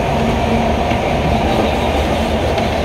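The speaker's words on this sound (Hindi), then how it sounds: "भरूच स्टेशन, यह है भरूच, लेकिन यहाँ पे हमारी ट्रेन रुकेगी नहीं" A passenger train runs straight through Bharuch station in Gujarat without stopping, heard from on board as a loud, steady rolling rumble with rhythmic wheel clatter and no talking.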